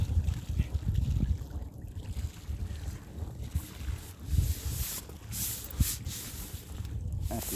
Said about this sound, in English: a yacht just went past.